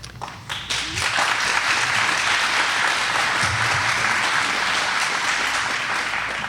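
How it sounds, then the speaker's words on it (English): Audience applause at a county sheriff candidate debate: a steady burst of many hands clapping from a seated crowd, rising quickly and holding at full strength. "Each of the candidates have gotten applause"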